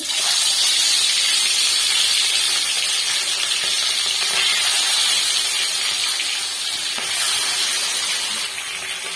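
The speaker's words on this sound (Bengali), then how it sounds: "এবার তেলে দিয়ে দিয়েছি। তেলটা গরম হয়ে গেছিল।" Steady, dense hiss of hot oil sizzling as spice-stuffed pomfret fries in a pan, loud and continuous with a slight dip near the end.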